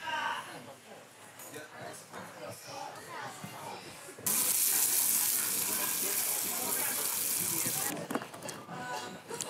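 Water gushes loudly from a kitchen tap for several seconds, starting and stopping abruptly in the middle of a cooking show, with people talking before and after the flow.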